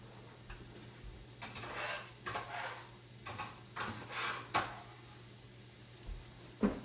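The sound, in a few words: onions sauteing in pot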